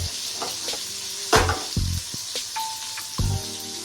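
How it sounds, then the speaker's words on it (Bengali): Onions sizzle and crackle as they lightly fry in hot oil, with a few sharp stirring scrapes and utensil clinks against the pan, close by. "পেঁয়াজ দিয়ে একটু জাস্ট হালকা ভাজা হবে"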